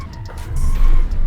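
A 6x6 drift truck of about 1,000 horsepower in BeamNG Drive slides with loud tire skidding over a heavy engine rumble, the squeal swelling and holding through the drift.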